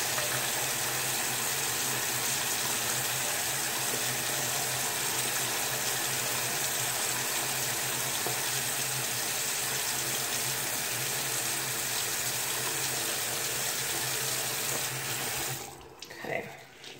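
Tap water runs steadily from a faucet into a sink while an ostomy bag is rinsed, a loud continuous splashing stream that stops abruptly near the end.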